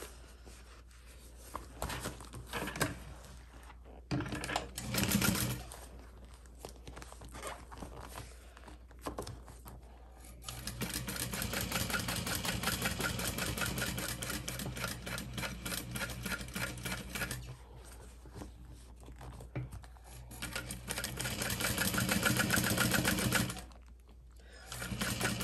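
A sewing machine top stitches vinyl handbag fabric over strap connectors, running in several bursts of steady rapid needle clatter separated by short pauses, close and fairly loud with no talking.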